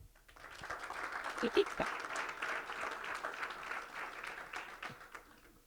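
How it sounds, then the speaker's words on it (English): An audience at a community candidates' forum claps steadily in a sustained, moderately distant round of applause, fairly even in level before tapering off near the end, with a brief murmur of voices underneath. "let's give them all a round of applause now"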